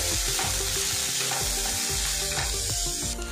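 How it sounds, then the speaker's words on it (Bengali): Chopped vegetables stirred and fried in a pan, a loud continuous sizzle with steady scraping and clattering of the spatula throughout, close up and with no talking. "সবজিটা বেশ কিছুক্ষণ নাড়াচাড়া করে নেব, এর কাঁচা গন্ধ যতক্ষণ না চলে যাচ্ছে।"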